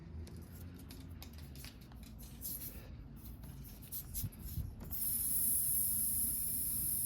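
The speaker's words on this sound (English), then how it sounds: "Just going to blow the air out." Air hisses out of a Robinair refrigerant recovery machine, a faint irregular rush with small clicks and handling noises that gives way to a steadier, louder high hiss near the end.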